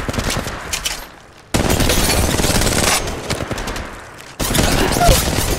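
Rapid automatic gunfire bursts in the Apex Mobile shooter, loud and close, coming in sustained rattling volleys separated by short pauses.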